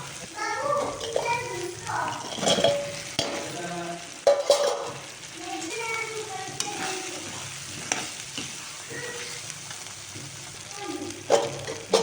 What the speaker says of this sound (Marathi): हे तिखट तेलामध्ये छान मसाला झाला आता यात टाकून घेऊया पनीरचे तुकडे